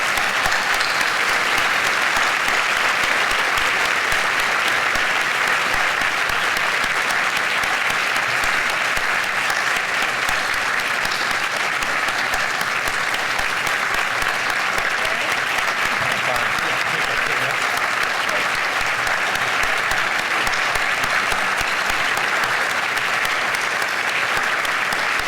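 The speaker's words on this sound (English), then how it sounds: "give her the round of applause that she deserves for her work in the community" Sustained applause from a large audience at an annual charity luncheon, steady and dense for the whole span, with no break or fade.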